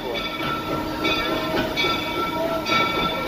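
The big train ride at Knott's Berry Farm amusement park in California rolls along with a steady rumbling roar and rhythmic clattering of wheels, heard close from aboard the train.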